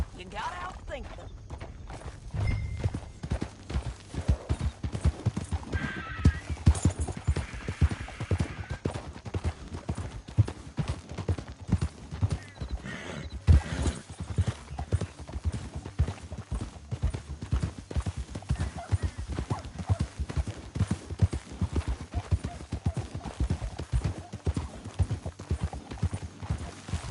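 Steady clip-clop of horse hooves at a gallop in Red Dead Redemption 2, a rapid rhythmic pounding that runs the whole stretch, with occasional whinnies and a voice talking over it.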